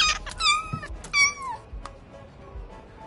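A kitten meows repeatedly in the VR game Trippy Kitty, with several bright, rising-and-falling mews close up in quick succession, then a short chirp and soft thumps as things go quieter.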